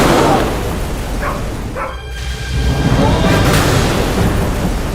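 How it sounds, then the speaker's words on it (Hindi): A loud firecracker blast booms nearby, followed by a few dogs barking in the neighborhood amid a noisy, rumbling outdoor background. "गाइस कुत्तों की आवाज आ गई।"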